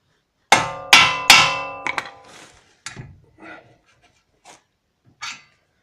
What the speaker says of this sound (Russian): молоток